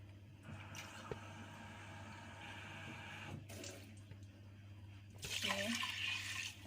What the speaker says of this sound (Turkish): işte şöyle iki su bardağı su koyacağız bu pilava